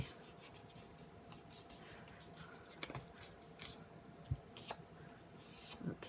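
Paper being folded and creased down the middle for a twist-and-pop card, soft rubbing and scraping strokes close up with a few sharper crinkles, quiet and without talking.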